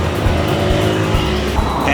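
Cars pass in busy Vietnamese street traffic, a loud, continuous roar of engines and tyres close by, with low rumbles rising and falling as vehicles go past.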